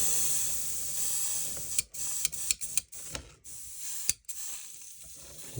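Cleaner is sprayed from an aerosol can, a loud steady hiss that then breaks into a series of short, sharp bursts and clicks, close to the listener with no talking.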